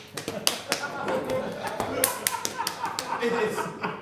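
A Chuck Taylor clap done as a hand-clapping demonstration: several sharp, uneven claps and taps sit under ongoing conversational speech, fairly close and moderately loud.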